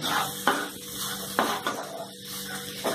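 Ginger and garlic with spices being stir-fried in a pan sound as a soft sizzle beneath repeated sharp scrapes and knocks of a utensil against the metal pan, at irregular intervals.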